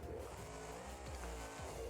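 A BeamNG.drive monster truck with a front Merlin engine and a rear Ford engine roars loudly and continuously, a dense engine drone with tire noise and no talking.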